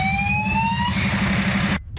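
Ambulance sirens wail at the scene of a construction collapse, a loud rising tone for about a second that gives way to a broad roar of traffic and engines before cutting off abruptly.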